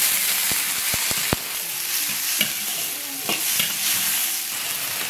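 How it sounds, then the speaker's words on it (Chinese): Scallion, ginger, garlic and dried chili stir-fried with glass noodles in a wok, a steady close sizzle broken by several sharp scraping and clanking strokes early on, then quieter stirring through to the end, with no talking. "下入葱姜蒜干辣椒，炒香以后倒入粉条"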